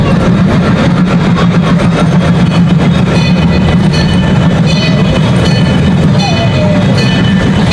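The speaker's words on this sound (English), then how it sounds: "The train actually goes around twice." A zoo train ride rolls along its track in a steady, continuous rumble, with engine drone and rail noise running throughout at close range.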